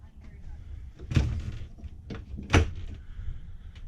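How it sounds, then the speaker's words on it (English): Rear door of a 2002 Hornet 37DD travel trailer thuds shut twice, two sharp knocking impacts about a second and a half apart, close by with faint room noise between them. "So it's got a rear door."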